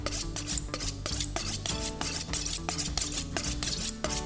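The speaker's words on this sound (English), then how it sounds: "First thing we do, sharpen your knife." A kitchen knife is drawn repeatedly across a sharpener in steady rasping strokes, close and fairly loud, over continuous background music.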